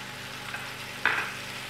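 A pan of spicy pasta with sweet peppers sizzles steadily as curry powder and soy sauce go in, with a brief sharper hiss as the liquid hits the hot pan.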